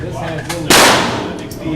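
A single sharp Smith & Wesson M&P 22 pistol shot at a shooting range, loud and close, with a brief ringing decay and faint background voices.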